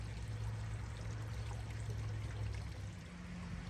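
A backyard fish pond's waterfall pours steadily, a low, continuous splashing flow close by, with a faint hum running underneath on a hot Atlanta afternoon.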